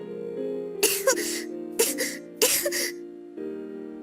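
Coco, a girl character in the Da Capo 2 video game, coughs in three harsh, close bursts in the middle of a spoken line, over a soft, steady musical background.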